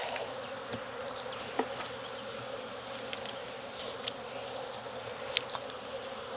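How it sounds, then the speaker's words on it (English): Honey bees buzz thickly around a newly released swarm at an outdoor hive, a steady dense drone with individual insects passing close and away, no voices. "There are bees everywhere now."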